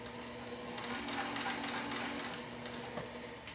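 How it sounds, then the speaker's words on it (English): Sewing machine back stitching and sewing a vinyl wallet, a quiet, continuous mechanical whir with faint rapid stitching ticks, heard close and without talk. "I am going to back stitch when I start and sew down this side first"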